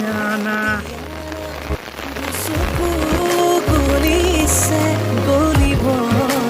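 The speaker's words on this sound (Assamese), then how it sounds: "খুব ধুনীয়াকৈ বৰষুণ দি আছে গাইজ আমাৰ এইপিনে" Heavy rain pours steadily in a rural Assam setting, a constant hiss partly masked by loud tonal, music-like sounds that swell and fade throughout.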